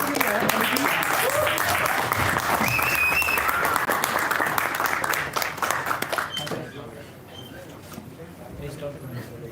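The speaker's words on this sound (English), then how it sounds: "huge round of applause" Applause for an election committee at the close of an event: loud, dense clapping for about six seconds, then thinning and fading into scattered claps and quiet voices.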